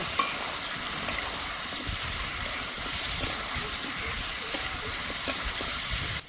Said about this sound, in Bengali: ঘন ঘন নাড়া দিয়ে আমি ভেজে নিয়েছি